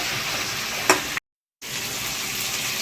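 Fish heads, rubbed with salt and turmeric, sizzle and hiss in a hot pan while being stirred, a steady crackling fry with a brief scrape of the utensil, then a short gap of silence before the frying resumes.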